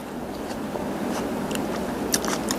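Someone bites and chews candied giant tamarind, producing close, soft sticky crunches and mouth sounds over a steady background hiss, with a few sharper bites toward the end.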